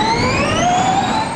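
Formula E electric race car at a race, a loud rising electric motor whine with layered high-pitched tones sweeping upward, brief and continuous with no voices.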